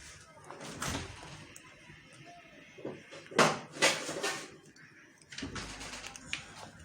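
A refrigerator door in a home kitchen opens and closes, several thumps and rattles scattered across the moment, including a louder cluster midway, with quiet kitchen handling between them.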